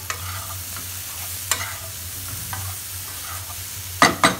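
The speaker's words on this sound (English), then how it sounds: "Now add the fried potatoes" Fried potatoes stirred with broccoli and spices in a pan, a steady sizzle punctuated by several spatula scrapes and a pair of louder knocks at the end.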